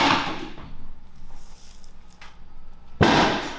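A hip joint cracks during a manual adjustment of a man who could no longer reach or bend well, heard as one sharp, loud pop near the end after a stretch of quiet movement sounds.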